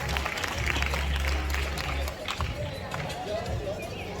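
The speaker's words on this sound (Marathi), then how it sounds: "सर्वांनी टाळ्या वाजवून त्यांचं अभिनंदन." An audience at a school co-curricular prize distribution in Mumbai's North Zone claps in steady, dense applause, with crowd murmur and a voice over it.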